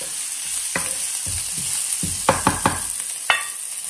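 Grated ginger sautés with cumin seeds in a pan, a continuous close sizzle broken by a run of sharp clattering stirs and spoon scrapes.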